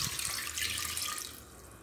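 Water pours into a pressure cooker holding potatoes, a steady splashing rush that tapers slightly toward the end, close and alone without talk.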